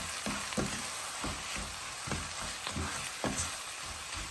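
Tomatoes (kamatis) frying in a pan for ginisang green beans with oyster sauce, a constant moderate sizzle with periodic stirring scrapes, no talk.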